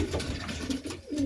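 Racing pigeons coo in a stock loft, soft throaty calls repeating close by in a steady rolling rhythm with no talking.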